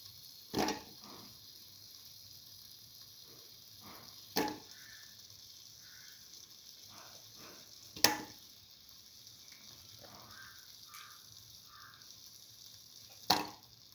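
Eggplant pieces frying in a pan, a faint, steady low sizzle broken by a few sharp clanks and scrapes spaced several seconds apart.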